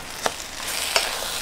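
Fish cake being stir-fried with chili flakes in a pan for a Korean side dish, with two brief scraping stirs over a soft steady sizzle, close and quiet, no talking.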